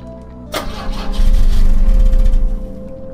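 A car engine in the video game The Drifter cranks loudly with a sharp onset, a steady churning rumble that sputters on for a couple of seconds without catching, then settles back.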